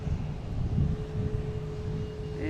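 Cape Air plane departing Boston Logan airport for Nantucket, a steady low engine rumble holding throughout at moderate distance, with a faint rising whine near the end.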